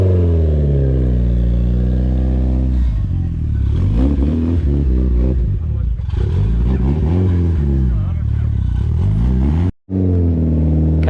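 A stripped-out Mitsubishi Evo 6 with a cage and twin-plate clutch revs repeatedly up and down, loud and close, its engine note rising and falling in several blips with a clattery edge and a brief cutoff near the end.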